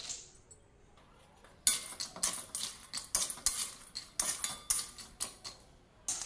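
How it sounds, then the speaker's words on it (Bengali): Almonds frying in ghee in a pan give sharp, crisp crackling and popping bursts that start after a quiet opening and continue in an irregular rapid patter, close and fairly loud. "বাদামগুলো এবারে চটপট করে আওয়াজ করছে, মানে এগুলো সব ভাজা হয়ে গেছে"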